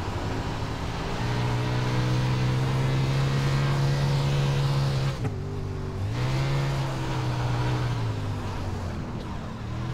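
A wingless sprint car engine in the iRacing game drones steadily at high pitch, dips briefly as it shifts or lifts off, then climbs again, loud and close with no talking.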